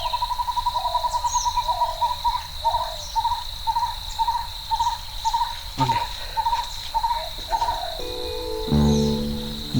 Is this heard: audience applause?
no